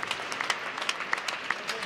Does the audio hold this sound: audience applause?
yes